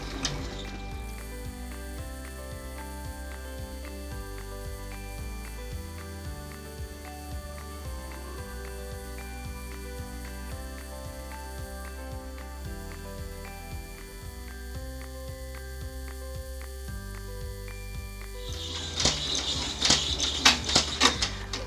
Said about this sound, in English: I'm going to embroider out the main design of this pattern